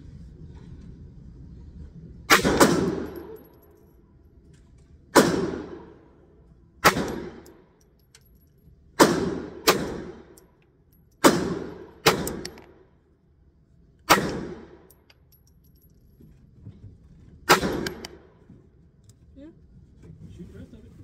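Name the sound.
CZ 50 pistol gunshots at a shooting range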